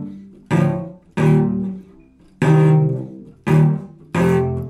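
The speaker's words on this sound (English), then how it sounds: "I'm just really, really digging into my strings to catch all three of those notes at once." A cello digs hard into its strings to sound three-note chords, five accented strokes in a loose rhythm, each ringing rich and resonant before fading into the next, played alone and up close.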